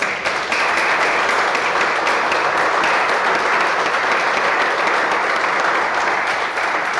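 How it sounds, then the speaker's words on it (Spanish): A church congregation breaks into steady, sustained applause for the women during a Spanish-language sermon, a dense wash of clapping throughout. "Pues denle un aplauso a esas mujeres sabias."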